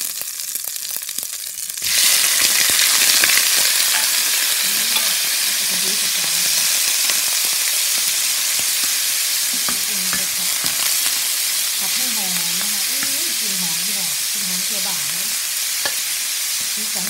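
Shrimp and vegetables stir-fried in a pan, a loud steady sizzle starting after a quiet moment, with scraping and stirring throughout and someone talking over it.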